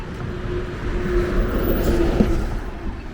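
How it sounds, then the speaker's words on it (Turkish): City bus arriving through street traffic, a steady low engine drone with road noise and a faint hum, moderately close and unbroken throughout. "Her yerden geliyor otobüs."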